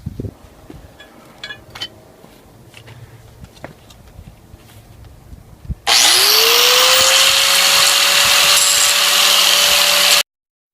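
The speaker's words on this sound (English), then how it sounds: "going to use the grinder to clean up some of this stuff" A few clanks and taps give way to an angle grinder spinning up with a rising whine, then grinding loudly and steadily on a lawn mower blade, cleaning off hardened grass, before cutting off abruptly.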